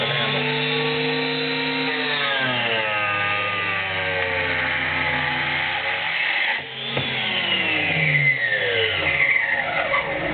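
A chop saw's motor spins up and runs loud and close, its whine sliding in pitch as the blade bites into the workpiece, dipping briefly mid-cut before resuming.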